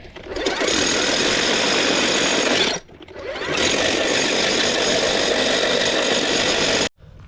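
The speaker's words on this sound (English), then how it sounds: "we'll keep drilling some holes" Loud, continuous hammering drill noise boring holes in rock, in two long bursts separated by a brief pause, harsh and close.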